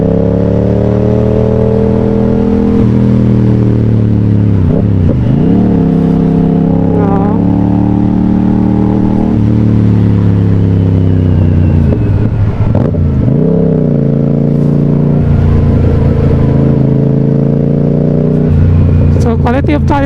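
A 2024 Yamaha R7 sport motorcycle's engine rises and falls through repeated revs and gear changes while riding, a loud, close, continuous drone with shifting pitch sweeps throughout.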